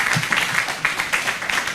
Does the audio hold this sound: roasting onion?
no